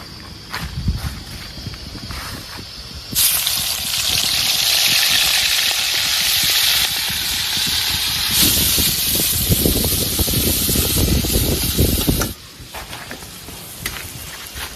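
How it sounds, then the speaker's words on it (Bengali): Freshwater snails hit hot oil in a wok, setting off a loud, steady sizzle that runs for several seconds and then cuts off, with clattering stirring before and after. "এবার এটাকে একটু হালকা মতো ভাজবো, খুব বেশি ভাজবো না, হালকা ভাজবো।"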